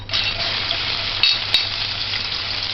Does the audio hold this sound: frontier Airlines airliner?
no